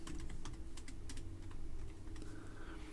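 Rapid keystrokes tapped on a computer keyboard in irregular bursts, close and fairly soft over a steady low hum, no voices.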